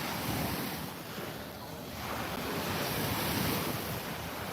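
Ocean waves on the beach at Playa del Carmen, Mexico, a steady broad wash of surf with wind buffeting the microphone, continuous and fairly close, no talking.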